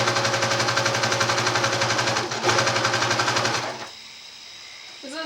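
A sewing machine runs steadily while stitching a French seam on a dress, giving a loud, fast, even mechanical whirring chatter that stops near the end, leaving quiet room noise.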